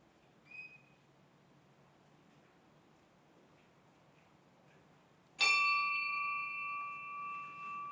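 After a stretch of near silence, a bell is struck once in a quiet meeting room, its clear ringing tone lingering and slowly decaying.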